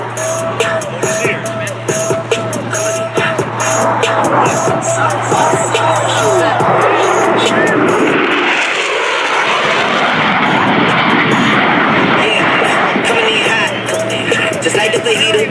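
F-16 Fighting Falcon jet making a high-speed pass near the sound barrier at show center during an air show: a loud, continuous engine roar that swells and shifts in pitch as it passes, with a steady hum and crowd noise underneath.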